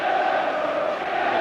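A packed football stadium of about 44,000 fans at Watford versus Liverpool gives off a steady, dense roar of murmuring voices, continuous and fairly loud, with no single voice standing out.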